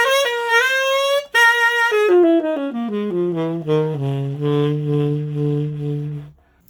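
A solo saxophone plays a descending run of clear notes, then settles on a long low tone shaken by a fast, tight pop-style vibrato, loud and close with no voices.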